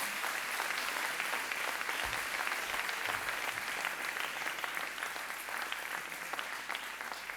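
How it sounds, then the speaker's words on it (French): Sustained applause from an audience at a political campaign meeting for departmental elections, a dense, steady roar of many hands clapping for several seconds with no talking over it. "Et je pense que vous pouvez l'applaudir tout de suite."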